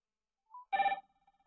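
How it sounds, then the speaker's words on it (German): An incoming call rings on a FreePBX/Asterisk phone extension: a faint short beep, then one loud electronic ring burst lasting about a third of a second, fading into a thin tail. "Sie sehen, der Ruf geht ein."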